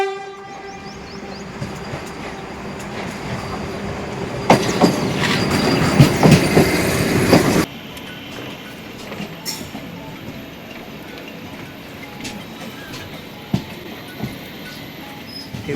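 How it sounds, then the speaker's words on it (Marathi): A train pulling into a railway station in the Konkan region: steady rumble and wheel clatter, with a louder, harsher stretch in the middle, then a lighter rolling with occasional clacks; no talking. "मागणं एक ट्रेन येते।"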